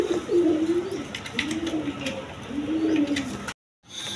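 Pigeons of assorted breeds coo in a loft, three long rolling coos in steady succession, close and clear, with faint chirps above, ending in a brief cut to silence.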